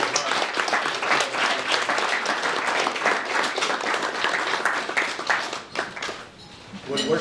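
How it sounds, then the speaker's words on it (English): A crowd at a lodge centennial celebration applauds the planning committee, with dense, steady clapping that holds for several seconds before thinning out toward the end. "Let's offer a round of applause to this amazing group."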